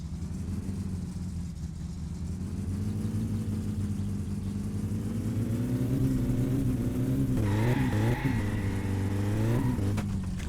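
A car engine in My Summer Car drones steadily with nitrous oxide being tested, a loud continuous rumble that climbs gradually in pitch, then surges and wavers near the end as the revs shift.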